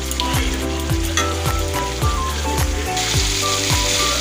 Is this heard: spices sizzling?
yes